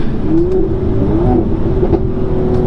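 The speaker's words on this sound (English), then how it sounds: "it's hard to make a turbo V6 that sounds really good, but they've achieved it. This one has great pops" Steady engine drone from a 2019 Mercedes-AMG C43 Coupe with a turbo V6 sport exhaust, a throaty, rumbling note holding a fairly constant pitch with a few faint overrun crackles, close and loud throughout.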